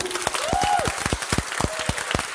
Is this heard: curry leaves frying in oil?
no